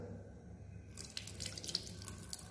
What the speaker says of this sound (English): I'm going to pour water into this